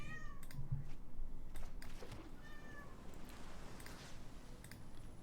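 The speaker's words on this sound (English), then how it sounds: "This cat is just, she's like dying. She's dying to go outside." A house cat meows in distress, crying to be let outside, with several drawn-out rising meows spaced across the stretch over a faint background of clicking keys and low murmur.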